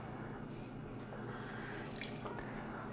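A faucet runs steadily into a sink for a few seconds, a soft continuous rush of water with faint splashing, quiet and close, with no talking while adding water to basil stems in a kitchen.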